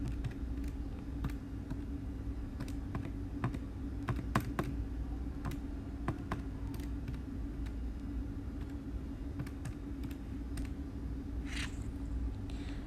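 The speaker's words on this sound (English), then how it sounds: "Then just type it onto your calculator." Calculator keys tapped in quick, irregular bursts while a calculation is entered, each press a crisp close click over a steady low room hum.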